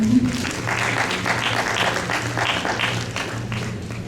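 An audience at a university panel discussion on journalism history gives sustained, dense applause, a full room clapping steadily throughout, with some voices mixed underneath.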